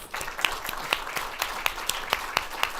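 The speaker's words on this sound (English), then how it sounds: "One more round of applause for our panelists." Audience applause for panelists at the close of a policy forum on Syrian displacement, heard as light, fairly distant clapping with a few sharper individual claps standing out.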